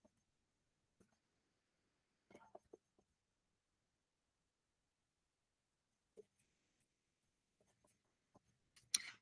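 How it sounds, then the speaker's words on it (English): Faint bursts of a pen scratching while a quick note is jotted down for a statistics quiz review, with short, sparse strokes separated by long quiet gaps. "I'm going to jot a little note down real quick when it's happening. I'm doing that right now."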